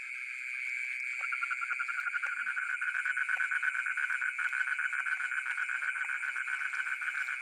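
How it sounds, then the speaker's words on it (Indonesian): A dense chorus of paddy frogs croaks steadily through a rice field at night, a continuous rhythmic pulsing drone that stays fairly loud and even throughout, with no voices. "Jenis yang laku dijual di bandar adalah kodok sawah alias kodok Cina."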